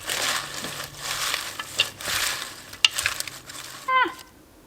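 Lots of pepper is ground over a dressing while cooking, heard as quiet, repeated crunchy grinding bursts in short uneven strokes, fairly close.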